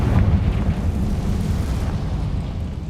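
A deep, rumbling blast from the Confringo fire spell in Hogwarts Legacy, a loud explosive roar that holds for a few seconds and slowly fades, with no voices over it.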